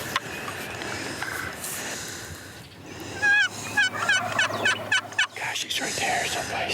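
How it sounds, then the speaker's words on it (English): A wild turkey tom gobbles in spring woods near a creek, a rapid rattling burst of gobbles rising clearly over a soft outdoor background hiss, fairly close and loud, with no talking. "nothing sounds better than a gobbling springtime tom"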